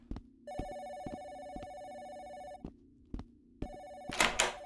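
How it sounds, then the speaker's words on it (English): A telephone rings inside the horror video game Phantom Dial, with repeated electronic bell-like ring bursts separated by short pauses and a few dull thunks, then a brief burst of noisy rustle near the end, with no talking. "Answer the phone."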